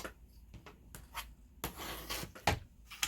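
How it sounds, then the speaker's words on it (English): Scratchy strokes of a pencil dragging across cloth, several short rubbing sweeps with soft handling noises in between, close up. "then just draw a line"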